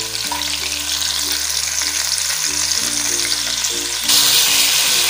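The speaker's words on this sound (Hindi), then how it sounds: "फ्रेश बीन की फलियों के लिए हम बोनलेस चिकन डाल रहे हैं। इसको फ्राई कर लेते हैं।" Boneless chicken frying in hot ghee, a dense, loud, continuous sizzle up close with a steady low hum underneath, growing brighter near the end.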